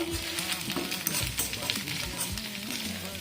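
Leftover rice being fried in a pan with chicken pieces, giving a moderate sizzle with repeated scraping and tossing of a spatula against the pan, rhythmic and close.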